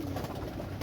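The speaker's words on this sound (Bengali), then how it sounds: "একজোড়া পাকিস্তানি গোল্ডেন কবুতর," A pair of Pakistani golden pigeons, male and female, giving a short soft coo, faint and close, with no talk over it.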